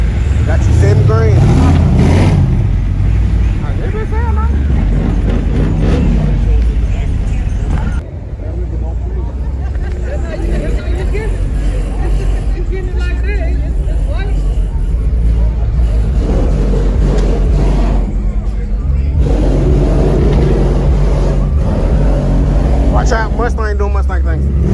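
Car engine revving hard as a car spins at a rowdy Memphis car show, a loud continuous roar with surging bursts over crowd noise, with people talking and shouting throughout.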